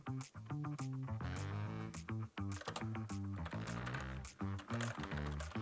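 Keys on a Logitech MX series mechanical keyboard clack in quick, busy typing bursts, a dense stream of close, crisp keystrokes with brief pauses, heard alone without talk.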